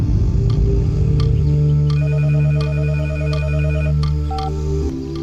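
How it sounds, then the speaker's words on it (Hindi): A telephone ringing in a dubbed movie scene, a repeating electronic ringtone of steady tones over a low background hum, with regular short clicks. "उसी लड़की का फोन है बेटा"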